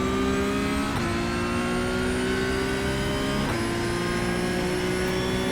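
A Porsche 992 Cup engine at full throttle at Imola in the iRacing video game: a loud, steady, high-pitched whine holding flat, with two brief dips where it shifts gears, and no talking.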